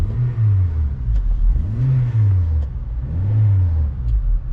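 A Honda Accord Type R (CL9) engine revs with its exhaust valve closed, producing a loud, deep, steady drone that swells and falls in several repeated rev cycles, close and alone.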